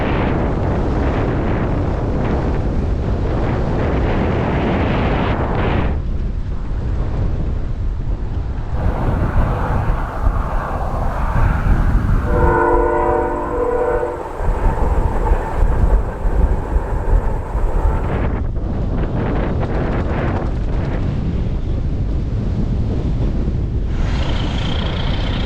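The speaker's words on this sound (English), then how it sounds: "So windy. Right in the face." A strong headwind roars against the microphone of a touring bicycle rider, with loud, rumbling gusts throughout that swell harder through the middle and then settle back to a constant buffeting.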